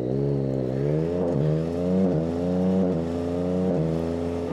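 A Yamaha Tracer motorcycle engine hums steadily at cruising speed on a night ride, a loud, close, continuous drone with slight pitch rises and dips as the throttle shifts, wind noise faint beneath.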